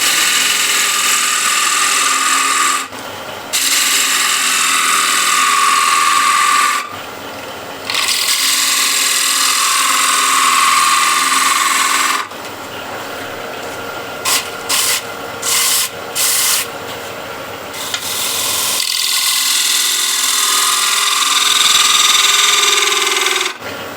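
A turned wood piece being hollowed and thinned on a lathe gives harsh, loud scraping and rubbing in long bursts, broken by short pauses and quick on-off touches of the tool as the motor runs.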